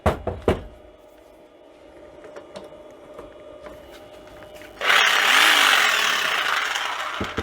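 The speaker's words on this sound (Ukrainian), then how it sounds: "лобзик запускається, зараз трохи щось різанем їм" A 600 W electric jigsaw, run from a car battery through a 2000 W 12-to-220 V inverter, follows a few sharp knocks and quiet handling, then starts abruptly into a loud, steady buzzing whine that continues for a few seconds.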